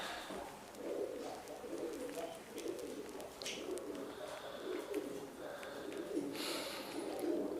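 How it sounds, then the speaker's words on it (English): Pigeons cooing at the Reykjavik Zoo on a cold winter day, soft repeated low coos over steady outdoor background noise with occasional faint chirps. "So we have some pigeons over here."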